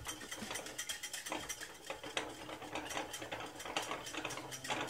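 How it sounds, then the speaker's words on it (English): Hollandaise sauce of butter and egg being whisked for Eggs Benedict, a steady run of close, rapid metallic clicks and scrapes of the whisk against the bowl, continuous and fairly loud with no talking. "So you gotta whisk. If you don't whisk this, it's gonna separate."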